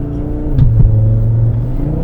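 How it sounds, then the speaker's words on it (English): A 500HP Audi RS3 in dynamic mode pulls hard in second gear, its engine note loud and close inside the cabin, rising steadily in pitch as the revs climb, with no talk. "let's give it a bit more beans here in the straight. In second gear we are"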